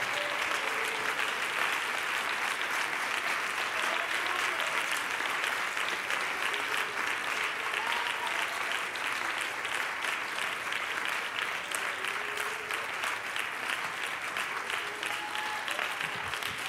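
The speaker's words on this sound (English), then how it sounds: "would you give him about a 30-second thunderous round of applause?" Sustained, thunderous applause from a congregation at an apostolic revival service, steady dense clapping and crowd noise holding at an even level for the whole stretch.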